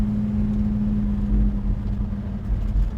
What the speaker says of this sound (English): It's got a big old throaty sound for a small block